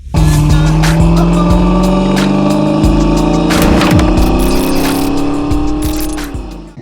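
A 1991 Ford Mustang LX coupe with a 5.0-liter V8 and automatic transmission drives hard on a test drive, its engine note loud and steady and rising in pitch through the run, with a brief tire chirp, then easing off at the end.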